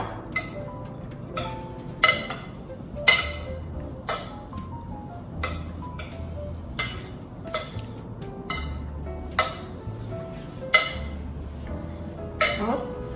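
Steamed vegetables and sprout salad are tossed with olive oil in a bowl, with a spoon clinking sharply against the dish roughly once a second over a soft, steady background.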